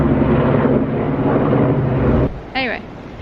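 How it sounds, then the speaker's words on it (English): A helicopter flies overhead near a deserted Cornwall village, a loud, steady low rotor drone filling the scene before cutting off sharply, followed by brief bird chirps. "the helicopter's going to be too noisy now."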